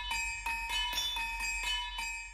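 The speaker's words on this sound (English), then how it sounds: "We have those bells and that started the whole song." Bells chime in the intro of a K-pop song, a bright metallic ringing that strikes in a steady rhythm about every half second over a sustained tonal backing, with no voices.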